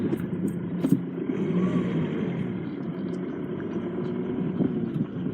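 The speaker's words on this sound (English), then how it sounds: "Cars come along when you least expect it." A car moves along a country road, its engine giving a steady, close, low rumble that holds for several seconds with slight swells, and no one speaks.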